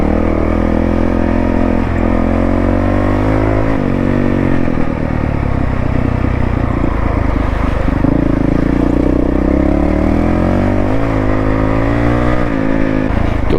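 A Honda CRF450L dirt bike ridden off-road, its engine droning loud and close throughout with rising and falling revs and a rough, clattering edge, no talk over it.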